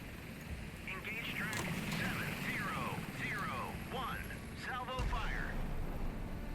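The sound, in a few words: naval gun firing at a Rogov in video game Sea Power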